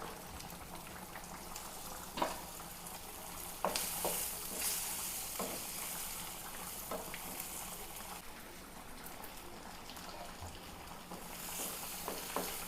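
Steady sizzling and crackling of fish frying in hot oil with curry leaves, with occasional louder spatters and scraping stirs; no voices.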